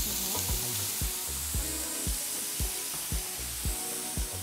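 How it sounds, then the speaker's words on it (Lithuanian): Onions frying in a pan for a paella with shrimp, chicken and chorizo, a steady loud sizzle with regular scraping strokes of a spoon or spatula stirring them about every half second. "Svogūnus reikia kepinti tol,"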